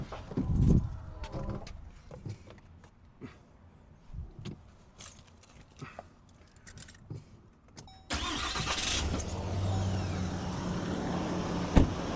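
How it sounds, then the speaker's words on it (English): A 2026 Ram pickup truck with its engine started and running, at first quiet and intermittent with birds around, then a steady louder idle rumble filling the last few seconds. "so the truck's running"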